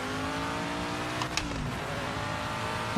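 A V8 supercar engine roars in a racing video game, a steady, gritty drone with a brief pitch shift and a quick tire-squeal-like burst midway, fairly quiet and without talk.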